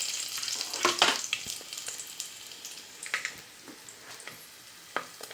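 Garlic, green chillies, ginger, turmeric and coriander-cumin powder frying in oil for a prawn biryani masala, giving a soft, close crackling sizzle with scattered small pops, fairly quiet.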